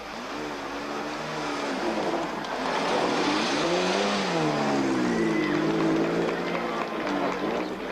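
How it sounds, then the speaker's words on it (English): A 1933 Alfa Romeo and a field of race cars starting a rally, with loud engines revving and rising in pitch as they pull away close by, swelling then holding strong. "The 1933 Alfa Romeo leads the way for almost 200 cars."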